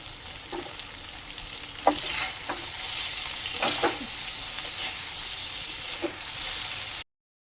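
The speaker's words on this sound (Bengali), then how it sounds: "এগুলো একটু হালকা তেলে অল্প তেল দিয়ে ভেজে নিচ্ছি" Paneer pieces frying in a little oil, a steady close sizzle broken by several scraping stirs of a spatula, continuous with no talking, ending abruptly.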